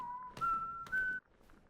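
A whistle is blown in Donkey Kong Bananza, a clear tonal note that steps up in pitch twice in quick bursts, then cuts off abruptly without trailing away, brief and fairly faint.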